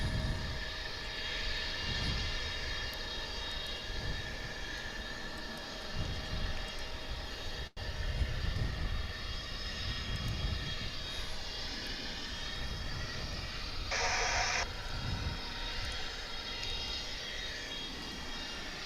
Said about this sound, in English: It's an American Airlines flight 304. That is a departure.